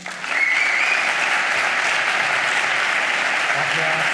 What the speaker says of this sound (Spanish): recibamos un fuerte aplauso a Marcos Vázquez